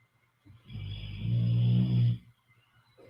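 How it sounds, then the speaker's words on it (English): A small dog snores nearby in one long, low, rumbling breath lasting over a second, fading out before a faint stir at the end. "Oh my god, he's really snoring."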